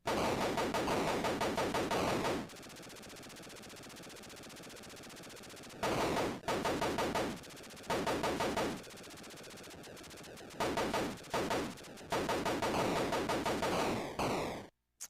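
Dense, loud bursts of rapid electronic gunfire from a helicopter in the Atari 2600 game Chopper Command, coming in long noisy stretches broken by short pauses, with no talking.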